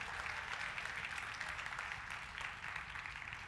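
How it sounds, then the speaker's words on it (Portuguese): Church congregation applauding during a sermon, a continuous, even wash of clapping that sounds somewhat distant and soft, with no clear voices over it. "Você pode dar um aplauso a ele e dizer glória a Deus?"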